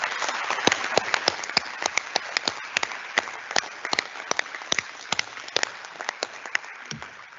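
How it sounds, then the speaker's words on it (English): Applause at a full council meeting, a modest room of people clapping steadily with distinct individual claps, moderately distant, fading slightly toward the end. "can we give them a round of applause"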